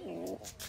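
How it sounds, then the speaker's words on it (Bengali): A pigeon gives a single short, soft coo close by, low and throaty, followed by quieter breathy rustling. "ডাক দেখছেন কী সুন্দরভাবে ডাকতেছে, আর ডাকটাই সুন্দর, সারাদিন মনে হবে যে কবুতরের ডাক শুনি"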